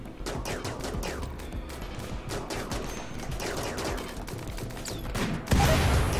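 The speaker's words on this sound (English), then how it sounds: "Doomsday rocket launcher is pretty insane." Weapons fire in RimWorld, including a doomsday rocket launcher, rattles as dense rapid bursts of shots and blasts, ending in a louder, heavier explosion that drowns out the rest.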